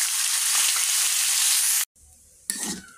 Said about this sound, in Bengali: আলু ভাজা করবো, এইভাবে কেটে রেখেছি, গরম তেলে দিয়ে দেবো এখন।